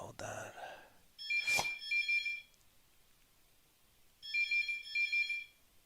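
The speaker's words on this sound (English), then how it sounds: "the phone's ringing" A phone ringtone plays in two bursts of repeated electronic trills, separated by a pause, with a brief voice and a sharp noise at the start.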